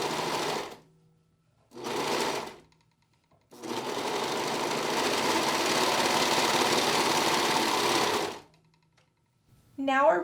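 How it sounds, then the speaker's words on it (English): A sewing machine stitches the shoulder seams of knit fabric for a girl's shirt, running in two short bursts and then one long steady whirring run of about five seconds before stopping. "line up the shoulder seams and stitch them together."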